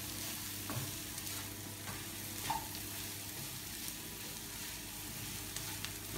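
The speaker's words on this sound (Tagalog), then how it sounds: "Habang niluluto po natin ang ating chowpan, nag-iprito na rin po tayo ng ating Shanghai." Shanghai spring rolls filled with beef frying in oil, a steady dense sizzle with faint occasional pops and stirring clinks, close and constant without talk.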